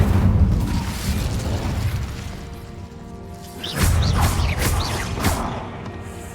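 A fire spell cast in Hogwarts Legacy: a whooshing burst of flame with explosive booms and bright crackling bursts, loud and close, with no talk.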